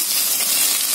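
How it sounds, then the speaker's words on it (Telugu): Curry leaves, coriander and mint fry in leftover oil in a pan, producing a steady bright sizzle that stays loud and even throughout the short moment. "పుదీనా అన్ని కలిపి బాగా ఫ్రై చేయాలి."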